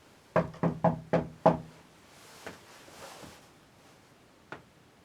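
Five sharp, evenly spaced knocks on wood ring out in quick succession inside the old Ancient Ram Inn, followed by a few fainter, scattered taps and quiet room ambience.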